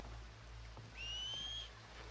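A single clear whistle note held for about a second over a steady low hum, fairly faint, in the video game Red Dead Redemption 2.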